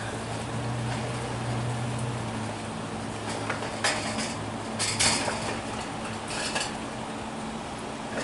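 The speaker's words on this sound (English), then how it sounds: "We're going to start bringing our jars out." Glass canning jars of tomato juice lifted out of a canner, giving a few sharp clinks and knocks around the middle of the clip over a steady background hiss.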